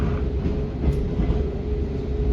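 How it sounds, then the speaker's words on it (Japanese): Belmonta tourist train rolling slowly through the Takaoka station yard, a steady close low rumble of wheels and carriage noise with faint rail clatter and no talk. "観光列車ベルモンタ号ならではの構内移動"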